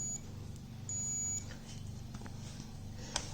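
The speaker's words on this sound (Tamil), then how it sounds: "இப்போ பாருங்கள், இது ரெண்டும் டச் பண்ணால் பீப் சவுண்டு வரும்." A continuity tester, used while repairing a mixer grinder, gives short high-pitched electronic beeps when its probes touch, including one longer sustained tone. The beeps sit over a low background hum, with light handling clicks.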